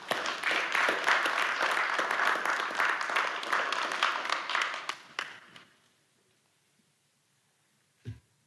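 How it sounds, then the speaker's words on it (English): Audience at a Little Rock city board of directors meeting giving a round of applause, loud steady clapping for about five seconds that fades to quiet, then a single thump. "Give them a round of applause."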